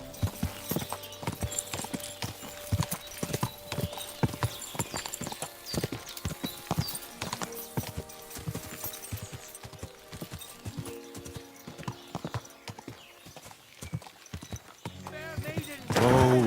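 Rapid clip-clopping horse hooves patter on and on in the video game Kingdom Come: Deliverance II, with brief whinnying at the end and game-like musical tones beneath; voices talk over parts of it.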